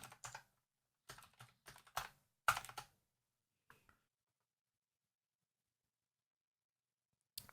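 Fingers type a password on a computer keyboard in short clusters of quick clicks, then fall silent, with a couple of isolated keystrokes later and one final tap near the end.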